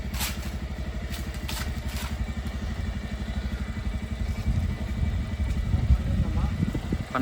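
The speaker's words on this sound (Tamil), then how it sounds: "ஸோ வண்டி வந்து ஸ்டார்ட்டில் தான் இருக்குது" A new motorcycle's engine runs with a steady, close, rapid putter that grows louder and rougher as the bike is moved, while a person speaks over it.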